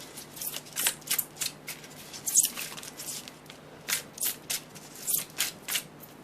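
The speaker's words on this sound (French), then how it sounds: "je vais laisser tomber les cartes" Tarot cards dropped one after another onto a table, a series of short papery slaps and flicks in an irregular rhythm, close and fairly quiet.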